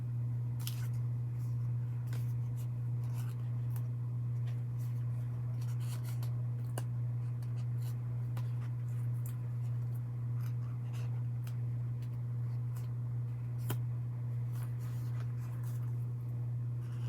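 Scissors cutting out a sticker page in a home crafting session, with soft, scattered snips and paper rustles over a steady low electrical hum.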